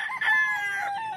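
A Lemon 84 gamecock rooster crows once, a single clear and fairly close cock-a-doodle-doo of about one second with no other sound around it.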